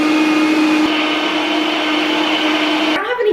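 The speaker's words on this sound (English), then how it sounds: "put it in my blender to make oat flour. And then you just blend it on high until the flour is formed" A blender runs on high, grinding a cup of oats into flour: a loud, continuous motor whir with grainy buzz that cuts off sharply near the end.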